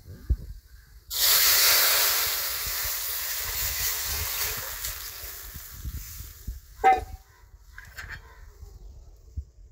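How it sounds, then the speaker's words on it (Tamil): Rasam of pepper and green gram dal poured into a hot tempering with asafoetida, bursting into a loud, sudden hiss and sizzle that slowly fades, with a brief clatter of a vessel near the end. "இந்த ரசத்தை அதில் ஊற்ற போகிறேன்"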